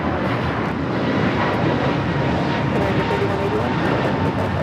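Fiji Airways flight 810 airliner at Los Angeles airport, a distant broad jet roar that stays steady and moderately loud with no talk over it.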